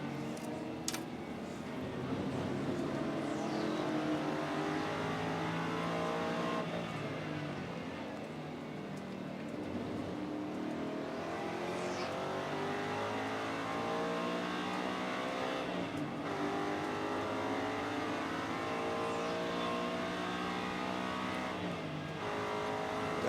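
A race car at Sebring International Raceway accelerates with slow gear shifts, its engine note climbing steadily and dropping at each leisurely upshift, heard loud and continuous without any talk.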